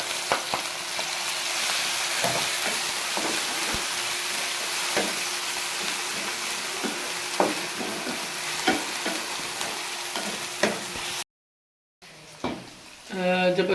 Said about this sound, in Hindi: जब आपका प्याज लाइट ब्राउन हो जाए तो उसमें हमने अदरक लहसुन का पेस्ट डालना है।